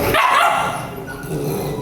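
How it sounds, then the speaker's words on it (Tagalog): Dogs at a house bark loudly and repeatedly in close, overlapping yaps, with a faint whimper as the barking settles into a steady noisy background. "mga aso ang ingay"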